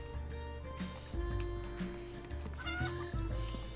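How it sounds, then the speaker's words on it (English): Chickens clucking in the Lemon Cake video game, several short, bright bird calls in quick succession, with game music tones underneath. "There you go, chickens."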